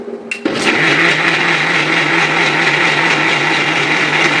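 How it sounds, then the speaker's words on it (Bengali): A blender whirs on after a short click, blending a milk smoothie, running steadily and loudly without a break to the end. "তো এইবার এটাকে ব্লেন্ডার করব।"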